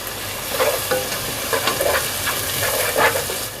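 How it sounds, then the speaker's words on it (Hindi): Cumin and carom seeds, with chopped garlic, sizzle and crackle in hot oil for aloo gobhi. A steady close frying hiss carries scattered pops and stirring scrapes, with no talking. "और इसके साथ ही हम इसमें जो ज़ीरा और अजवाइन थी वो भी डाल देंगे।"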